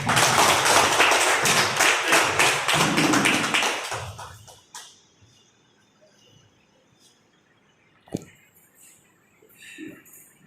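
A conference audience claps hard for about four seconds, a loud crowd of hands that cuts off abruptly, leaving a quiet room with a couple of stray taps afterward.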